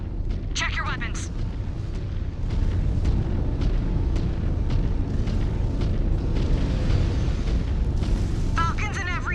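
Weapons fire and explosions rumble through a MechWarrior video game battle against Jade Falcon forces, a continuous heavy low-frequency roar with scattered bursts, while voices and radio chatter speak over it.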